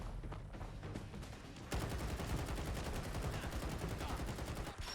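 CR-56 AMAX assault rifle from Fallout 4 firing in continuous, loud automatic bursts, with a denser, heavier stretch of rapid shots in the second half and no pauses.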